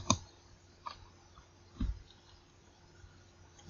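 A computer mouse clicks a few times, sparse and fairly faint, with small pauses between the quiet taps in a near-silent room.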